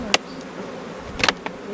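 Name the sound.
honey bees buzzing around an opened beehive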